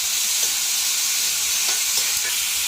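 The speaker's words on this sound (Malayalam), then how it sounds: "എല്ലാം കൂടെ നന്നായിട്ടൊന്ന് വഴറ്റിയെടുക്കാം" Potatoes and soya chunks sautéing in a pan, a steady broadband sizzle and fry with occasional soft stirring scrapes, close and continuous without any voices.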